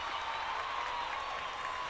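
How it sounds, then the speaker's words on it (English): Applause from a small audience on a podcast set, a dense, steady patter of clapping that holds at an even level for about two seconds with no voices over it. "I think my 2 cents deserves clap."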